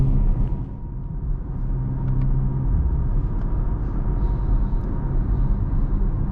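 A 2022 BMW X3 M Competition on the move, a steady low engine and road rumble heard from inside the cabin, continuous and fairly loud.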